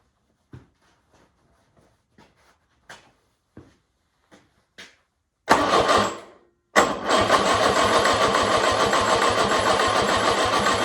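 A Ford flathead engine that has sat unused a long time: a string of faint clicks and knocks, then two loud, steady bursts of starter cranking separated by a brief pause, close by.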